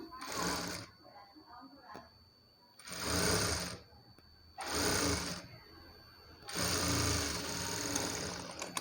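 A sewing machine stitches an extra strip of cloth onto a blouse in four separate bursts of whirring, with quiet pauses between them, fairly soft and close.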